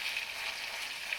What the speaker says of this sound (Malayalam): ചിക്കൻ ഫ്രൈ പൊരിക്കാൻ വേണ്ടി റെഡി ആയിട്ട് ഇരിക്കുകയാണ് ഗൈസ്